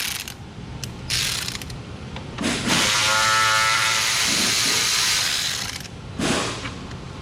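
Electric ratchet with a 10 mm socket turning out a bolt on the radiator of a 2007 Chrysler Town & Country, a close, loud whirring buzz that runs in several bursts with short pauses between them.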